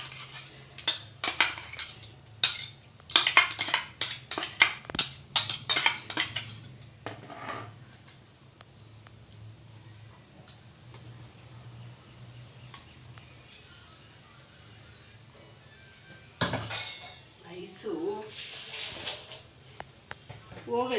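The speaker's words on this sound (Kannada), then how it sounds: "ಈಗ ಈ ಮಸಾಲೆ ಇದಕ್ಕೆ ಹಾಕ್ತಾಯಿದ್ದೀನಿ." Green masala paste ground with yogurt being mixed into raw chicken pieces in a bowl for kebabs, with bursts of wet squelching and spoon clatter against the bowl, close by, dying down mid-way and then returning briefly.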